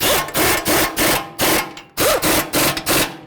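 Rhythmic bursts of a ratchet or power driver tighten bolts and nuts on the CV axle of a 2008-16 Chrysler Town & Country, about ten short repeated pulses close up, with no talking.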